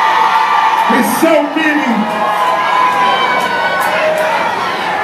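A club crowd on a Thanksgiving night cheers, whoops and shouts continuously, loud and close, with a few people talking amid the noise.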